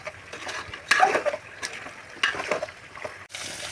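A spoon scrapes and stirs through chicken curry with ginger, salt and turmeric in a pan, giving soft, close, irregular strokes and a couple of louder clinks against the metal, with faint frying underneath.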